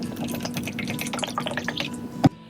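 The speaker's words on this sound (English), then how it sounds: "pour out half a cup of hydrogen peroxide" Hydrogen peroxide poured into a cup, a short liquid trickle and dripping under a faint steady hum, ending with one sharp knock just before it stops.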